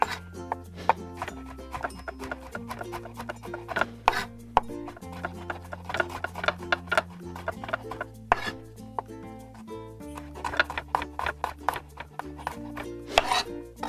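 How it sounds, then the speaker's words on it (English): Garlic being minced with a knife on a cutting board, a steady run of quick, crisp chopping taps repeating close-up for the whole stretch, with no talk over it. "So I'm just gonna run my knife through it."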